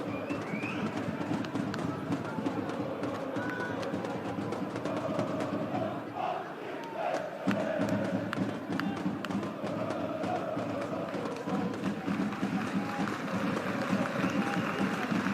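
A football crowd at a Ligue 1 match between Stade Brestois and Paris SG, a broad continuous roar of chanting and murmur from a large stadium, with some louder swells and scattered claps.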